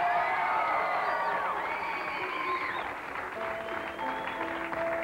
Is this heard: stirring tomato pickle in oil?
no